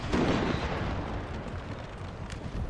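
Artillery fire in Napoleon Total War booms across a battlefield as a French unit goes after Swedish guns, a dense low rumble with a heavy blast at the start and a brief sharp crack later; no talking.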